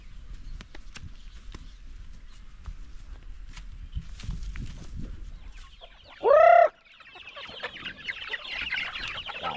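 Chickens cluck at a farmyard, with a few scattered calls and one loud, sharp bird cry in the middle before a steady hiss of background noise takes over.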